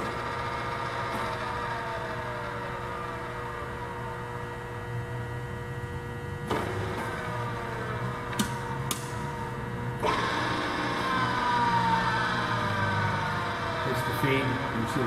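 A Willis RD1300H radial drill runs with its two-speed motor and the feed turning, giving a steady mechanical hum with faint whining tones, a few sharp clicks and knocks, heard from close by in a workshop.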